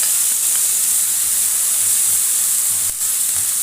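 Bell peppers hit a hot pan of boiled beef liver, raising a steady, loud sizzle and hiss that runs unbroken throughout, with a brief dip near the end.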